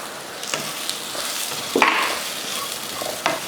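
Tomato and coconut sauté in a pan with shallots, a close bubbling sizzle broken by a few sharp scraping stirs of a spatula, no talking.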